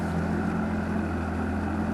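A fishing boat's outboard motor idles on Gantt Lake, a steady low rumble with a constant hum close by and light wind noise, no voices.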